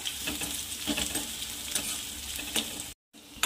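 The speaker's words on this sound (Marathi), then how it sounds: "आता याला मिक्स करून कांद्याला छान पकू द्यायचं आहे" Onions are stirred and sautéed in a pan for farsan bhaji, a constant sizzle broken by repeated close scrapes and clatters of the spatula, with a brief cut to silence near the end.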